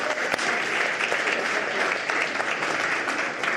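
An audience claps steadily for a few seconds, a dense even patter of many hands close by, with a few voices mixed in.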